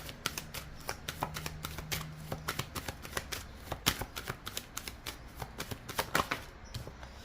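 Rapid, crisp slaps and riffles of tarot cards being shuffled and drawn by hand, in uneven bursts of sharp clicks, close and clear, with no talk.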